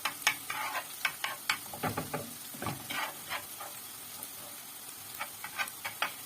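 Potatoes sautéing in a pan, with soft sizzling and repeated scraping stirs in an irregular rhythm, close and fairly quiet, with no talk.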